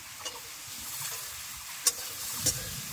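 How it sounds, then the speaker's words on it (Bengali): Cut okra fries in a pan with salt, giving a soft, steady sizzle with a few brief louder pops and spatters. "ভালো করে ভেজে নেব।"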